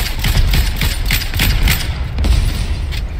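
Rapid bursts of gunfire in a battle royale video game, a string of sharp close shots in quick succession with a brief pause before a few more, loud and alone without voices.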